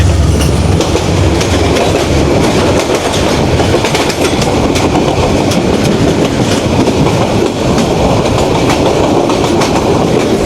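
The Sonar Bangla Express runs on rails from Chittagong toward Dhaka, with a loud, continuous rumble and rhythmic clickety-clack of the wheels heard close by from on board, without any voices.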